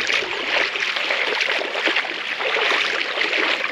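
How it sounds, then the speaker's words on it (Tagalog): Strong river current rushing steadily near Sitio Dikalaw, Palanan, Isabela, a dense continuous watery roar with no breaks, loud and close throughout. "Ang lakas ng agos."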